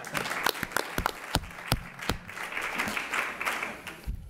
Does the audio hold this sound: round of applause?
yes